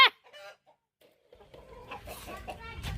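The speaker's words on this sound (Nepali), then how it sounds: "कुखुराहरू" Chickens cluck in a short burst at the start, then a quieter low rumble and scattered noise build up over the remaining seconds.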